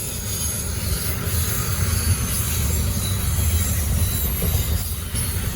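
A Norfolk Southern freight train with a mixed locomotive consist rumbles past steadily and close in Charlotte, with a constant low roar and faint wheel squeal, no voices.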